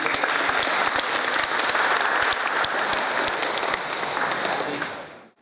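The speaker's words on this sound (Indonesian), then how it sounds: "Kita tepuk tangan bersama." A wedding congregation at a holy matrimony service breaks into sustained, dense applause, many hands clapping together loudly and evenly for several seconds before it cuts off abruptly.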